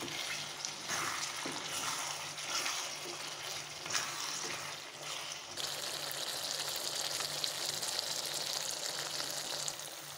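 Country chicken pepper fry sizzles in a pan as it is stirred, a dense continuous crackle that brightens and intensifies midway, close and with no voices.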